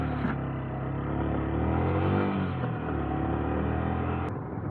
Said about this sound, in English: Let's rev it without wasting the time.